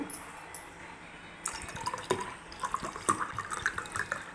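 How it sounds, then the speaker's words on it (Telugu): Cool water for mint juice is poured into a glass, heard as soft, faint trickling and dripping with a few light clinks, close by and with no talking. "cool water"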